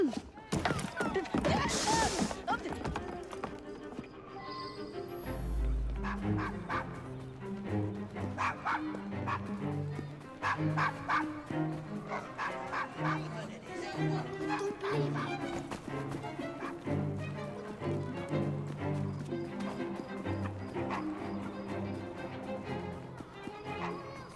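A dog in Assassin's Creed Syndicate yips and whimpers amid game music and effects, with voices talking at times over a continuous, busy soundscape.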